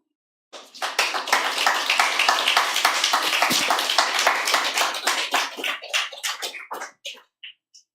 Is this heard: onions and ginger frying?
no